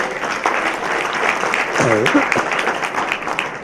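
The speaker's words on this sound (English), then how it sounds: "I'm very happy when you clap." An audience applauds steadily throughout a talk, a dense wash of clapping with a brief voice breaking through in the middle.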